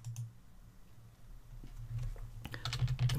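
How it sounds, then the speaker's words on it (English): Keys on a computer keyboard are tapped while entering an Excel formula, giving quiet, scattered clicks that gather into a brief burst of typing toward the end. "We're going to type the multiplication symbol and then click on C6"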